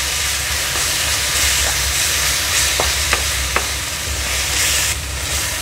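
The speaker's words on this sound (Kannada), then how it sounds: "ಈರುಳ್ಳಿ ಜೊತೆ ಜೊತೆಗೆ ಇದು ಕೂಡ ಫ್ರೈ ಆಗ್ತದೆ ನೋಡಿ" Onions frying in a pan for matar paneer, a loud, continuous hiss and sizzle close by, with a few sharp clicks of a spoon against the pan as it is stirred.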